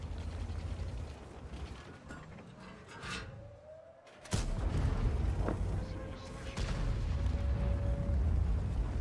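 A single heavy artillery blast booms midway in World of Tanks, played with a Type 71 tank, followed by sustained rumbling and mechanical clanking.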